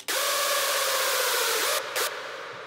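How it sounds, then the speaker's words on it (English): A layer of bright white noise sits on a rawstyle screech synth built in FL Studio, a loud steady hiss with a faint tonal buzz beneath, breaking briefly before fading slightly at the end. "some white noise layered on top of the sound"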